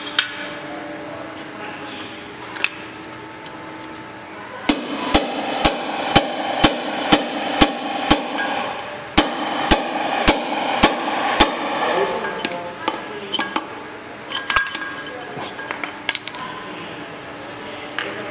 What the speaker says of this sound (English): it's time to put the seal back in with the seal driver